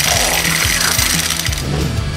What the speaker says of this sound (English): Chuck that candy in and grind to your heart's content.